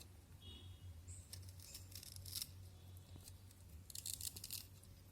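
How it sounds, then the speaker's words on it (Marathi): A knife slices through a salt-preserved amla (Indian gooseberry), giving soft, quiet crunching and tearing cuts in a few short bursts over low steady hum, with no talking. "मी तुम्हाला एक आवळा कापून दाखवते।"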